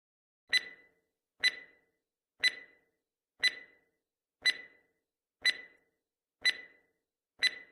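A quiz countdown timer ticks eight times at an even one-second pace, each tick crisp and bright with a short decay. There is silence between the ticks and no talk.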